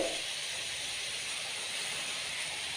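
Pork liver hits a hot pan for adobong baboy with squid, giving off a steady, even sizzling hiss that holds without a break, moderately close and alone with no voices.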